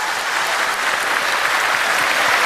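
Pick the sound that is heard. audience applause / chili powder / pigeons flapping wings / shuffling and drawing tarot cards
audience applause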